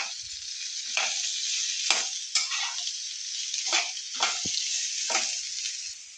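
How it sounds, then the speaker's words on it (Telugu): Bottle gourd pieces sizzle in hot oil with curry leaves in a frying pan, with about five clear stirring scrapes at a steady pace over the continuous frying hiss. Close and fairly loud, with no talking. "ఆమెగా ముక్క వేసుకున్నాక బాగా కలుపుకోవాలి"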